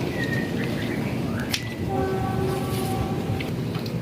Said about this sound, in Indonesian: Ini udaranya ada angin dan gerimis juga.